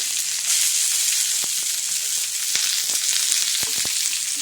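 Vegetables, leafy greens and onions frying in a pan, a steady dense sizzle with scattered crackles and pops throughout, close and fairly loud, no talking.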